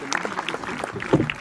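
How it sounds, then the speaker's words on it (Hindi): An audience at a school International Yoga Day event in Greater Noida claps to welcome a guest, a brief burst of scattered, uneven applause mixed with some voices. "एक बार जोरदार तालियों से उनका स्वागत कीजिए,"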